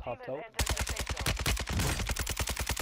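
Rapid automatic gunfire in Warzone 2, a steady loud stream of evenly spaced shots running without pause after a brief opening moment of voice.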